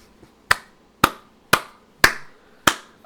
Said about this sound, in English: I applaud you guys.